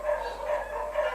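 Dogs barking and howling at a moderate distance, a continuous wavering chorus with no voices over it.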